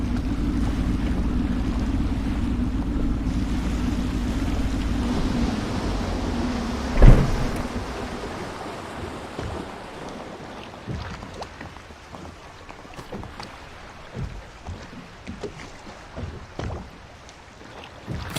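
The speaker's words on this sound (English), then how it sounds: "I should concentrate on piloting this boat." Boat moving across water in the video game Dishonored, a steady low engine hum and sloshing waves at first, then a single bump and lighter splashing and creaking, with no talking.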